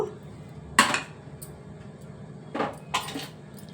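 A spoon clinks against a bowl while maida flour is added for mushroom cashew pakoda: one clear metallic tap, then two lighter clinks close together over a quiet kitchen background.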